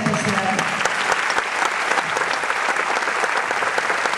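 Sustained applause from a theatre audience at a revue show, a dense, loud and steady clapping that fills the room, with a voice briefly heard at the start.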